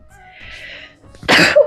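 A single sharp, loud sneeze bursts out close by after a few seconds of quiet, breathy background during a tabletop board game session.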